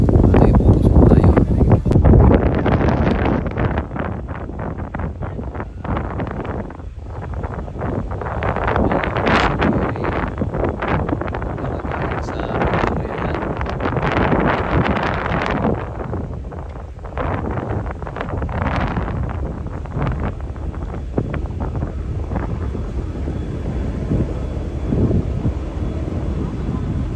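Strong, gusty wind on a BC Ferries vessel buffets the microphone with a continuous roaring rumble throughout, rising and falling in waves.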